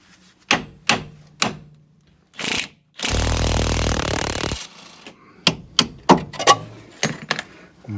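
Sharp metal hammer taps knocking bolts out of Land Rover Freelander 1 suspension during a lift kit fitting, a few separate strikes, then a longer burst of grinding noise, followed by more quick taps close by.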